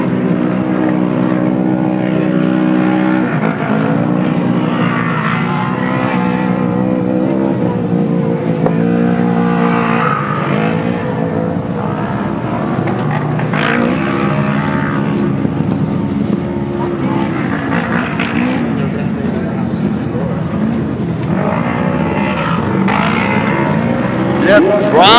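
Off-road ATV and side-by-side racing machines drone and throttle up at an off-road race in Taft, California, with a loud, steady engine roar that swells and recedes, and an announcer talking over it.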